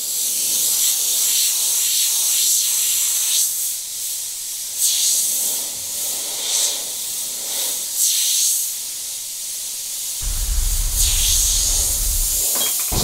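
Repeated bursts of an Iwata HP-BCS siphon-feed airbrush spraying paint with a 0.5 mm nozzle, several short hissing blasts in steady succession, close and fairly loud, with a low rumble near the end.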